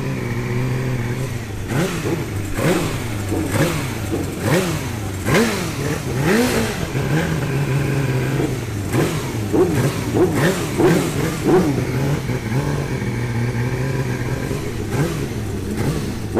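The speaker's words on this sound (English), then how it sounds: "So that's six frantic laps on Chris Walker's 2000 GSX-R 750 BSB bike." A 2000 Suzuki GSX-R 750 BSB race bike revs hard on the Cadwell track, its engine note rising and falling in repeated sharp throttle blips, loud and close with a steady rumble underneath.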